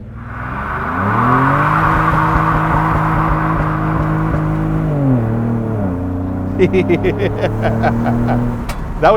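A Ford Raptor pickup truck's engine roars and revs hard during a burnout, pitch climbing and shifting through gears, with sharp crackles and pops toward the end.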